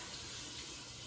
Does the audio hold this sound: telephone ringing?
no